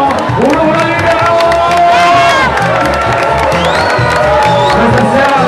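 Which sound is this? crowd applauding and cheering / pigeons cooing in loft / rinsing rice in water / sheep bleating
crowd applauding and cheering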